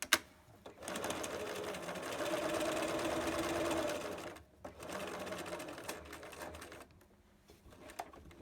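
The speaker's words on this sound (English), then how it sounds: "Just going to top stitch all the way around the mask, pivoting and turning at the corners" A sewing machine top-stitches around a child-sized fabric mask. Its rapid, steady stitching purr runs in close runs of a few seconds, pausing briefly at pivots.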